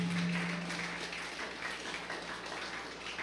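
A church congregation claps during a sermon. The sound is a soft, diffuse patter of many hands, faint and somewhat distant, holding steady with no clear voices.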